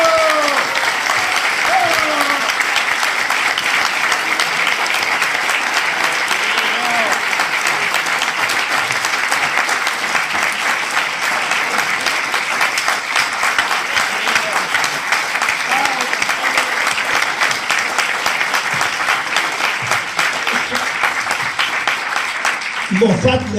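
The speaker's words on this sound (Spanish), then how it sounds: "Moffat le aplaude, ¿estará bien esto?" Long, loud, sustained applause fills a hall after a speech at a book presentation, dense and unbroken, with faint voices and shouts mixed into the crowd.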